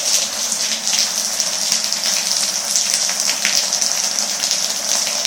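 Water gushes steadily from a leak inside a flooded apartment, a loud continuous hissing splash with no pauses, close by and alone.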